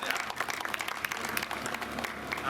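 An outdoor crowd at a city park grand opening claps in steady, scattered applause at moderate distance throughout.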